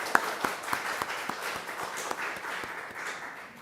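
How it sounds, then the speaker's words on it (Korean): A church congregation's applause during Sunday worship, with a few distinct hand claps standing out over a softer, continuous patter of many clapping hands that gradually thins toward the end. "오늘 미국 출국 전 마지막 예배인데 우리 박수로 한번 우리 격려하도록 하겠습니다"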